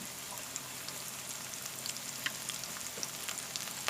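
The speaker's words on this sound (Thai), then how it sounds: "น้ำมันร้อนแล้วเราก็ใส่เกี๊ยวลงไปทอดเลยนะคะเพื่อน" Wontons deep-frying in hot oil, a steady close sizzle with crackling pops and spatter throughout, no voices.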